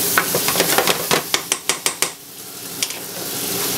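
Shrimp being stirred and sautéed in a pan for a Creole shrimp sauté, with a soft sizzle under a series of sharp utensil clicks and scrapes against the pan, clustered in the first two seconds then easing off.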